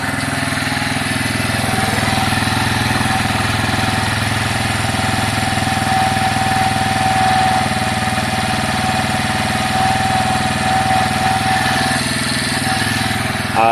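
A Piaggio Fly 125 scooter idles steadily while warming up, a loud, even engine drone with a constant low rumble and slight rattle throughout, no voices.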